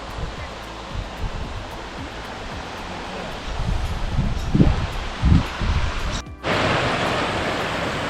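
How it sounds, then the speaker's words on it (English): Spring water flows steadily down into a river in the Cape York bush, a continuous broadband rush heard close, with a few thumps and rustles over it. "The water just keeps flowing straight down into the river."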